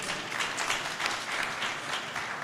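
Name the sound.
audience applause for Speaker Craig Coughlin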